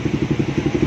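A repaired motorcycle engine, freshly refreshed with a cleaned throttle body, runs close by with a steady pulsing idle rhythm and light mechanical clatter, heard alone.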